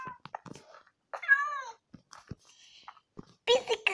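A cat meows once, a short rising-and-falling call, amid scattered small clicks, chewing noises and soft indoor sounds, with another brief cry at the end.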